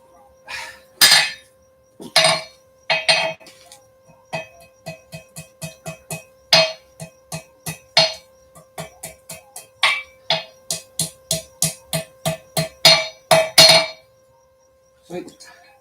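Sharp metallic hammer blows ring out at a blacksmith's forge, starting with a few spaced strikes and settling into a rapid, steady rhythm of close, loud clanging hits with a faint constant hum beneath.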